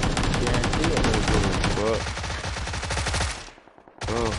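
Video game gunfire, rapid machine-gun bursts rattling loud and close, thinning out before a brief gap and a fresh burst at the end, with voices talking over it.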